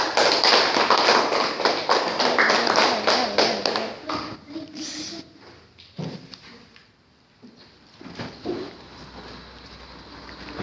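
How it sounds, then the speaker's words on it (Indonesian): Schoolchildren in a classroom clap for a classmate, a quick burst of uneven claps over the first four seconds, then scattered taps and thuds with faint voices. "tepuk tangan untuk kawannya."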